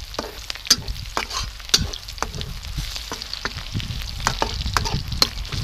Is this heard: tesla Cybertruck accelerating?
no